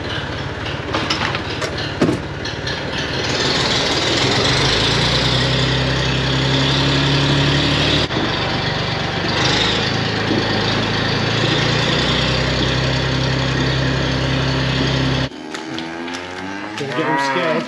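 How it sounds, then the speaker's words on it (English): A scraper tractor engine runs on a farm during a barn clean-out, a loud, steady droning hum that holds for most of the stretch before cutting out abruptly near the end. "I'm going to go get the scraper tractor and we'll set to tidying up"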